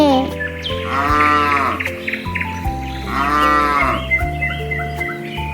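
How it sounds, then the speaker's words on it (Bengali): Cattle moo in two long, drawn-out calls from a cow and her calf, loud and near, laid over a soft musical accompaniment with no talking. "গরু বাছুর দাঁড়িয়ে আছে।"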